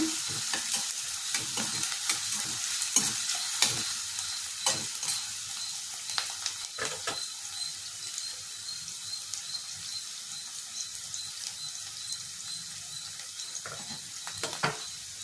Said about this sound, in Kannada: ಈ ರೀತಿ ಫುಲ್ಲು ಕೆಂಪಗೆ ಫ್ರೈ ಆಗಲಿ ಸ್ವಲ್ಪ ಕಲರ್ ಚೇಂಜ್ ಆಗಲಿ